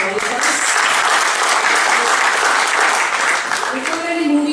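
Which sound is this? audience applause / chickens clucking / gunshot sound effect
audience applause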